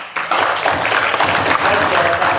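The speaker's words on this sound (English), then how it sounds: "So I think Churchill deserves a big round of applause for that." An audience applauds a Toastmasters speaker at a civic centre meeting, a loud burst of clapping rising sharply after a brief lull and continuing steadily, with some voices mixed in.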